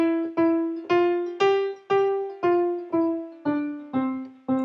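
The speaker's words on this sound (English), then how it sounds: "you can learn how to play, let's say, a melody like this" A simple right-hand piano melody, about ten separate notes picked out one at a time at a steady moderate pace, each decaying cleanly, played alone with no talking.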